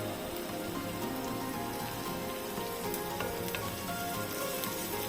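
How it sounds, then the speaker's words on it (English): Tomato frying in a pan with cashews and haldi powder for a bisibelebath, giving a steady, dense sizzle throughout with no talk. "Add 1 tomato. Fry this also for 2 minutes."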